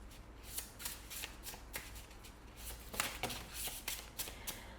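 A deck of tarot cards is riffled and shuffled close by in quick, papery bursts that repeat in an uneven rhythm, soft and alone in a quiet room.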